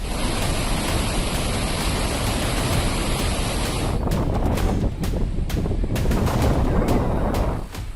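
Heavy water rushing out of the Mani dam reservoir after widespread rain in the Linganamakki catchment, a steady loud broadband roar that continues for the whole stretch with no voices.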